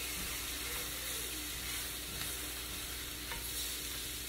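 Tomatoes hit a hot pan of meat patties, producing a steady, close hissing sizzle broken by soft stirring scrapes, with a faint high whine running underneath and no speech.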